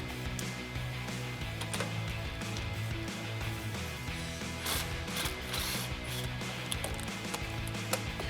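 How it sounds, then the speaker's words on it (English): Socket ratchet turning an 18 mm nut on a truck steering stabilizer, fairly faint rapid clicking and mechanical rattling that continues steadily throughout without any talking. "we can remove our 18 millimeter nut with our 18 mil socket"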